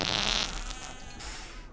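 A farting alien character from Disney's animated film Treasure Planet lets out a long, buzzy, rasping fart that sputters on for nearly two seconds at moderate loudness.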